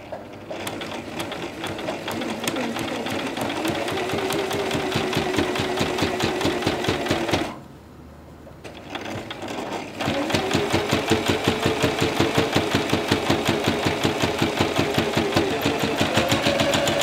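A sewing machine runs a running stitch down a summer dress hem in fast, even needle clatter, pausing for about two seconds midway, then stitching again at a steady close pace.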